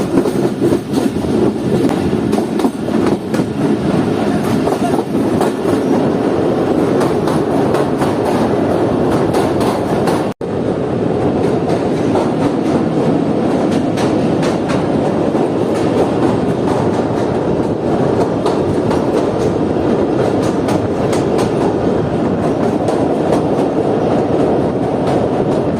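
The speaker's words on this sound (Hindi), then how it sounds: "ये ट्रेन इस तक पहुँच चुकी है मजी रिवर ब्रिज पर" Karakoram Express train rolling across the Majhi river bridge, a loud continuous rumble of wheels on rails with rhythmic clatter and rattling wagons, steady from start to end.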